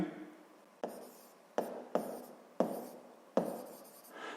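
Handwriting on paper during a Ukrainian 7th-grade physics lesson, a steady scratchy rasp of pen strokes broken by five sharp taps as the pen lands, close and alone without talk.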